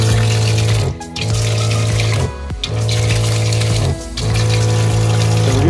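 Water running through an M4 agitator recirculator pump unit: a loud, continuous rushing flow over a low steady hum, close up, broken by three brief dips where the flow is cut, with no talking.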